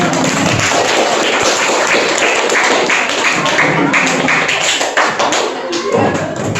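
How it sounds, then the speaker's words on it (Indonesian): A group of classmates applauds in an Indonesian classroom after a student group presents, steady dense clapping throughout with some voices mixed in. "Beri tepuk tangan dulu."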